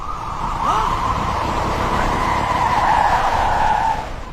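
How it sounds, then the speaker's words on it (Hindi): Police car sirens wailing loudly and steadily, sustained across the whole stretch, with a rising sweep near the start and a broad rumble of traffic or crowd beneath. "अरे पुलिस की गाड़ियों का सायरन बज रहा है।"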